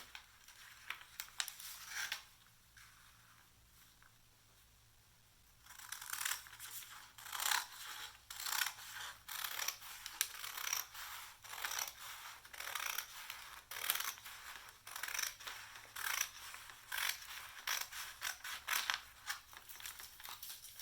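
Scissors snip through a Prima Redesign transfer sheet in a rapid series of crisp cuts with light crinkling of the plastic sheet, close and fairly quiet, after a brief pause.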